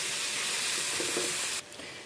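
Tomatoes sauté in a pan for paneer masala, giving a steady, broad sizzle that runs close and even, then drops abruptly to a quieter hiss near the end.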